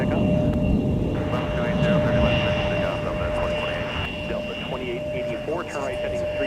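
Delta airliner taking off from runway 30 left at MSP airport in winter, a steady jet roar with a high whine, heard under radio chatter.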